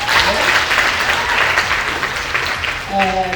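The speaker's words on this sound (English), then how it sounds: "let's also give them a round of applause from traveling from all parts to come here" A crowd at a youth event in Limpopo claps for visiting stakeholders, a loud, full round of applause filling the hall, with a voice starting to speak as it fades near the end.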